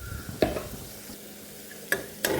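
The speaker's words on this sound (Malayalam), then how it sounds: "നന്നായി മിക്സ് ചെയ്ത് കൊടുക്കാം." Turmeric and Kashmiri chili powder are stirred in a hot pan, a low sizzle punctuated by three quick spatula scrapes.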